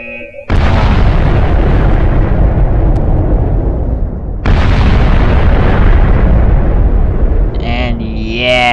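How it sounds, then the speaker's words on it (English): Nuclear missile explosion in the Minecraft ICBM mod: a massive, loud roaring boom that rumbles for several seconds, followed by a second huge blast, before a faint tonal sound at the end. "it's a pretty big explosion"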